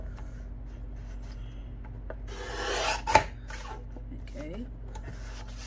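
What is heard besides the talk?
paper trimmer cutting book page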